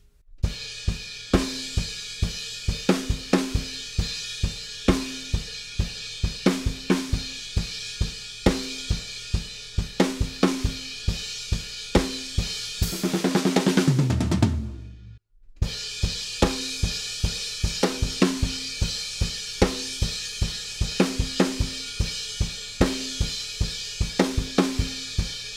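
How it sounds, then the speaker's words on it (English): Full drum kit playing a driving rock chorus beat, with extra kick drums underneath and a crash cymbal in place of the hi-hat. Steady, loud and close, with a brief fill and a cutoff midway before the groove resumes. "ramp it up a little with a few extra kicks underneath and up on the crash cymbal instead of the hat, so it will sound like this."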